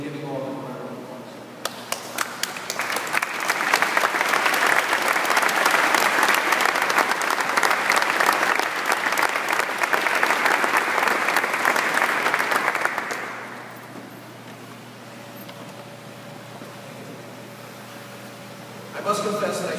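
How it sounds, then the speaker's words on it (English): An audience of standing students applauds graduates at a Columbia University Executive MBA commencement, a long, dense roar of clapping in a large hall that swells quickly, holds steady for about ten seconds, then fades into room tone. "join me in giving all of them a round of applause"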